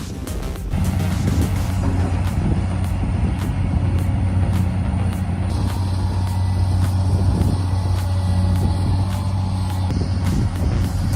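A Cat 345CL long-boom excavator working a riverbed, its heavy diesel engine rumbling steadily and loud nearby, with hydraulic whine and occasional clanks rising over the drone.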